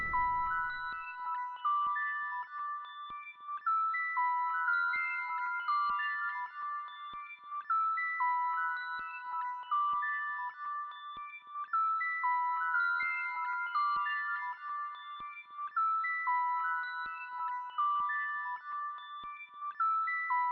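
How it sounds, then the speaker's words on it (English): A bright synthesized bell melody, pitched an octave above the rest of the line in an FL Studio trap beat, repeats in a clean looping pattern with soft ticking percussion, clear and steady with no voices. "I added a bell, which is an octave higher than the rest of the melody"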